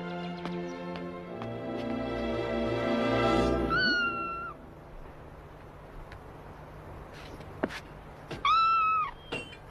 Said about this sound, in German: Sieh mal das kleine Kätzchen, das ich gefunden habe.